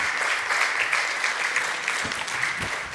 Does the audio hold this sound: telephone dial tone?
no